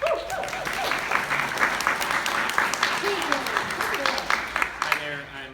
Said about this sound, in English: Round of applause for Frank.